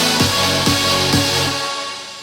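House music drop with a dense, layered synth texture and rhythmic low kick or bass hits about every half second, loud and full throughout with no voices.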